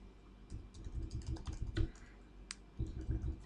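A computer keyboard is typed on close up, a quick irregular run of soft key clicks with a brief pause before a final few presses.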